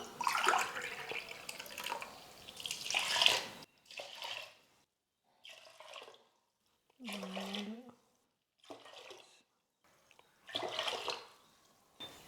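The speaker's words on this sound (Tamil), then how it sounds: "இப்போது 3 கிளாஸுக்கு 6 கிளாஸ் தண்ணி முதல்ல சேர்த்துக்கலாம்." Water poured from a glass into rice and lentils for ven pongal in a kitchen, heard as several separate splashing pours with quiet gaps between them, close and fairly soft.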